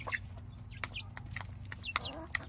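Backyard chickens cluck softly and intermittently close by, giving a few short clucks and squawks over a low background hum.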